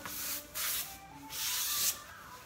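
Grunge gray wax is rubbed onto a milk-painted furniture drawer with a brush or cloth, giving soft, hissing strokes in repeated bursts, close and fairly quiet with no voices.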